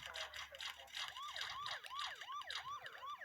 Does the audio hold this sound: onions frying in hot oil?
no